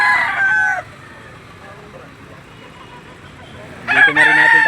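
Roosters crow at a livestock auction market in Lipa, Batangas, one loud nearby call opening the clip and another overlapping burst of crowing near the end, with a quieter stretch of ambient noise between.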